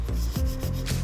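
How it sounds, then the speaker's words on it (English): Car body filler putty is sanded in steady back-and-forth rubbing strokes by hand, close and continuous, with a rhythmic scratchy texture. "sand the transitional area once more"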